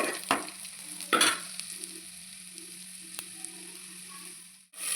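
Peeled garlic fries in oil for an eggplant tamarind curry, giving a soft, steady sizzle with a couple of louder stirring scrapes early on.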